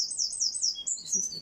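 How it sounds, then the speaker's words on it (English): A small garden bird, a wren, sings a rapid series of high, clear chirps and trills close by, with quiet background. "Listen to the birds."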